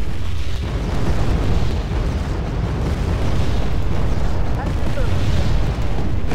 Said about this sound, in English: use them where I called in artillery